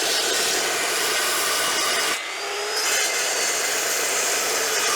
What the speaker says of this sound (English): with this metal cutting saw, I do wait for it to stop before I pull it up